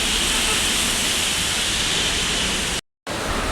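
Steady broadband rain hiss on a Kathmandu street, a dense continuous wash that drops out briefly near the end before resuming.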